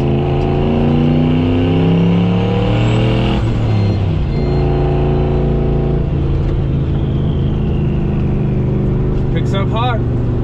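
A loud, close truck engine revving and accelerating hard, its rumbling pitch climbing in stages, with a brief hiss near the end.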